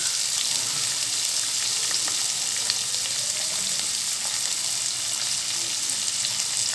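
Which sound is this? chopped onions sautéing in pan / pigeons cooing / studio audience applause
chopped onions sautéing in pan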